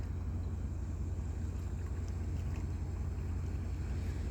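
A boat passes on a river during a fishing competition, its engine a steady low drone that runs unbroken the whole time, mixed with wind and water noise.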